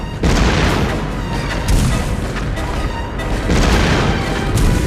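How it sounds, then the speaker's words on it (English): Heavy cannon fire in a World War II naval battle scene, loud sustained booming blasts and rumbling detonations in quick succession with no pauses. "Load it! Load it! Fire at will! Fire!"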